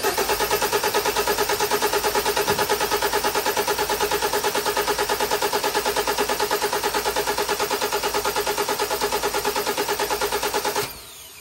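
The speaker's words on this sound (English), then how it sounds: "crank your engine for approximately 10 seconds" A car's starter motor cranks the engine continuously for about ten seconds during a starter motor test, a steady loud rhythmic whirring churn that cuts off abruptly near the end.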